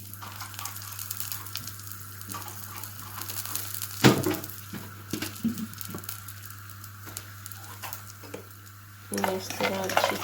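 Raisins and almonds fry in a tablespoon of oil in a pan, giving a faint sizzle beneath a steady hum, with a few clinks of a spoon against the pan and a burst of stirring near the end.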